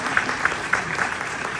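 Audience applause at a speech by Surgeon General Antonia Novello, a brief burst of steady, fairly close clapping from a crowd with no talking over it.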